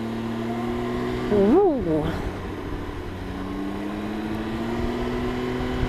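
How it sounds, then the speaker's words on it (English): A Can-Am Ryker three-wheeler accelerates in sport mode: the engine note climbs and wavers in a quick rev, then settles into a steady drone under wind noise, with a rider's brief exclamation. "Now we're in sport mode."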